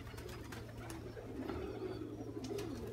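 Soft cooing of a rock pigeon or dove, low and steady throughout, with a faint outdoor background and no talking.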